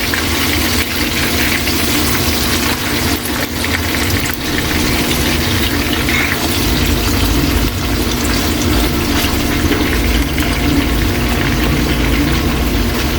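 Chicken pieces frying in a pan for chicken curry, a loud, steady, dense sizzle and crackle that carries on without a break, with no voices over it.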